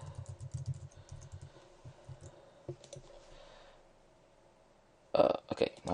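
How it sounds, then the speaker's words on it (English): Keys on a computer keyboard tap out a password in quick bursts of soft clicks, followed by a louder clatter of keystrokes near the end. "Let me put in my password."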